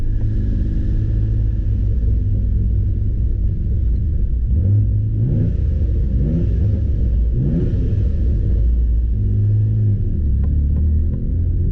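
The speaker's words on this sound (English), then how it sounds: "Driving through a tunnel here and we'll hear this exhaust." A VR4 car engine rumbles steadily with a deep exhaust note echoing through a tunnel, swelling in a few brief revs before settling back to a low drone.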